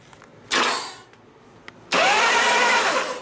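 A 1988 Harley-Davidson FXR motorcycle engine cranks over in two bursts, a short one and then a longer sustained one, loud and close in a workshop with no talking.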